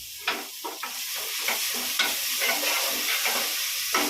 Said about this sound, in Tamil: இது தக்காளி போடலாம் இது புதினா கொத்தமல்லி ரெண்டும் அதிகம் வச்சு போடலாம்